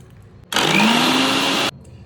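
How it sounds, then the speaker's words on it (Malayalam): An electric mixer grinder blitzes chicken fry masala with curry leaves in one loud, steady whirring burst of about a second, starting and stopping abruptly, close up with no talking. "ഒന്ന് മിക്സിയിലിട്ട് ഒന്ന് അടിക്കുക"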